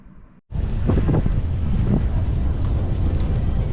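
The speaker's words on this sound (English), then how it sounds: "A little bit of wind on our backs for the first K." Loud, steady wind buffeting the microphone during the White Nights Marathon run, a roaring rumble that starts abruptly after a brief quiet moment and continues without letting up.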